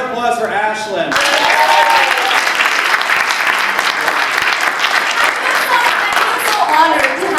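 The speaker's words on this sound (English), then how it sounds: "Let's go a round of applause" A live audience at a Gen Con 2016 LiveRPG performance breaks into a loud, sustained round of applause and cheering that fills the room for several seconds after a brief moment of speech.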